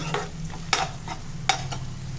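Ginger and onions sautéing in a pan give a soft steady sizzle, broken by a few sharp scraping stirs of a spoon against the metal, close up with no talk.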